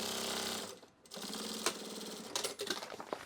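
A sewing machine stitches a duffle seam in quick mechanical bursts, with a short pause partway through before it runs again. The sound is close and fairly quiet, with no voices.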